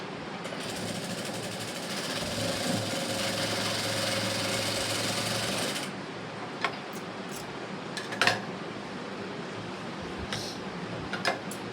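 A sewing machine stitches a blouse in one steady, fast whirring run for about six seconds, then stops, leaving faint room noise and a few sharp clicks.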